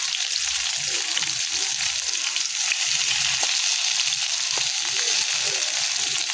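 Food frying in a pan makes a steady, close hiss and sizzle throughout, with a low murmuring voice faintly underneath.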